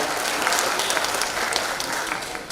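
Steady audience applause from a crowd at a ministerial speech event in an auditorium, a dense even wash of many hands clapping that holds for the whole stretch.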